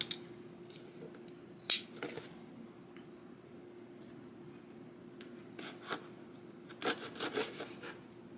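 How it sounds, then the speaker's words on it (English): A Corsair RGB computer mouse package is unboxed with scattered scraping, rubbing and crinkling of cardboard and plastic, including a sharp tear near the start and a cluster of rustles toward the end. The sounds are close and fairly quiet, with no talking. "let's open up this mouse now"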